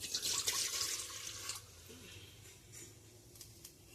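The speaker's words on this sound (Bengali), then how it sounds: "অল্প করে একটু জল দেবো, কেন দুধ কম তো, তা অল্প করে জল দেবো।" A little water poured into a cooking pot for a rice-flake kheer, a faint splashing trickle that fades after a second or two into quiet drips, nearby, with no talking.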